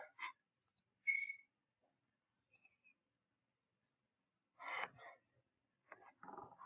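A computer mouse clicks while records are sorted in CRM software: a few sharp, quiet clicks scattered across several seconds of near silence.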